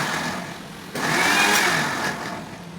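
A mixer grinder runs in a short burst, grinding coconut, chana dal and jaggery for paruppu poli, its motor whine rising loud and steady for about a second before easing back to a lower hum.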